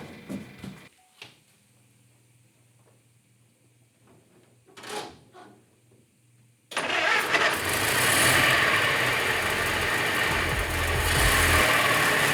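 A Model T Speedster engine cranks and catches after a few quiet knocks, then runs loud and rough on three cylinders with an uneven, lumpy idle close by.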